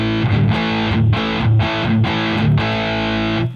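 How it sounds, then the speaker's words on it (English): Electric guitar played through a Musiclily ODDT-01 distortion pedal with the gain turned up, chugging in a steady rhythm of loud, thick distorted chords that pause briefly between phrases, close and alone. "It's not a bad distortion. It's like a classic distortion."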